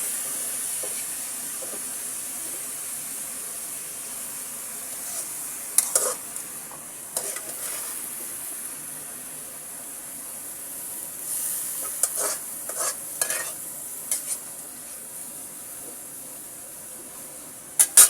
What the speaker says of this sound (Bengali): এবার আমি লাউ শাকটাকে সুন্দর করে নেড়ে নিচ্ছি।